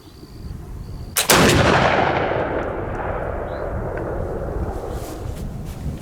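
A Kibler fowler loaded with 2 ounces of shot fires a single loud, sharp blast outdoors, followed by a long rolling echo that slowly fades over several seconds.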